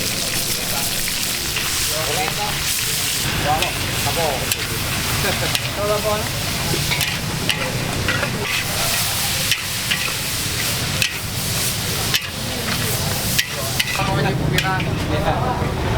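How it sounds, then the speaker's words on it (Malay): Mie tumis noodles are stir-fried at a Ramadan market stall in Banda Aceh, with loud continuous sizzling and the repeated scrape and clatter of a metal spatula in the wok, while people talk in the background. "Dan ini adalah proses pembuatan mie tumisnya."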